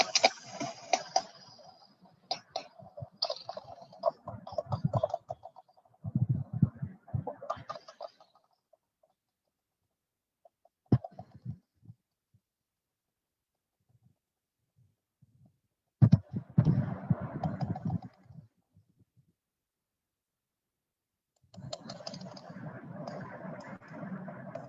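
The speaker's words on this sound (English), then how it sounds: "This is the sound of the sperm whales found in our waters." Sperm whale clicks recorded in Sri Lankan waters come in scattered bursts of rapid, crackling pulses separated by near-silent gaps, with a single sharp click standing alone in the middle.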